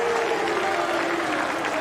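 A tennis stadium crowd at the 2024 US Open, during a third-round match, claps and cheers in a dense, steady wash of applause that fills the whole short moment.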